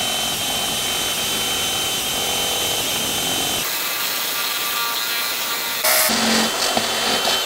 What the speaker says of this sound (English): we're going to drill our 1-inch Forstner bit 1 3/8 deep